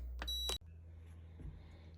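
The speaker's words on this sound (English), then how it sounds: "the timer went off" A rice cooker's timer gives two short, bright electronic beeps close by over a steady low hum, then stops.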